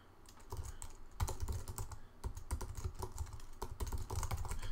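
Steady bursts of typing on a computer keyboard as text is entered, many rapid clicking keystrokes in uneven runs with brief pauses, close-miked and alone without speech.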